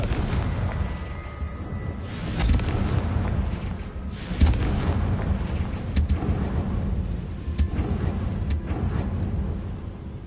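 Confringo fire spell blasts from the Hogwarts Legacy video game, several loud booming bursts spaced a second or two apart over a continuous rumbling battle din, with no talking.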